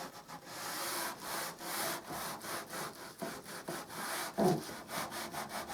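Finishing sandpaper is rubbed by hand over varnished wood in quick, regular back-and-forth strokes, each producing a dry, raspy swish, close up and with no talking.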